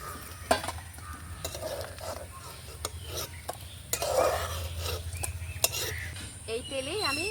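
Rohu fish head finishing frying in oil in a home kitchen, with a soft steady sizzle, scattered clinks and scrapes of a utensil against the pan as the pieces are lifted out, plus occasional faint voices in the background.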